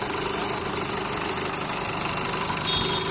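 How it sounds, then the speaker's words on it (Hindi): A Sonalika 750 tractor fitted with a Sakti reaper binder for cutting and bundling wheat runs with a steady, rough diesel drone that holds evenly throughout, close by and with no talking. "सोनालिका 750 पे मशीन लगी हुई है।"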